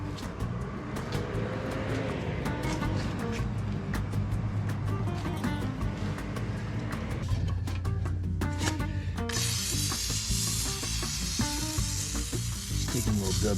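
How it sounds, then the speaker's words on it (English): WD-40 sprays onto the parts of a John Deere 2025R tractor to wash dirt off, a continuous loud hiss with rattling and a sharper airy burst in the final seconds, no talk. "Taking a little WD-40 and kind of washing this all off."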